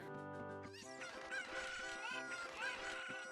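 A cucco chicken in the video game The Legend of Zelda: Ocarina of Time gives a string of loud, honking, squawking clucks, rising and wavering over in-game background sounds.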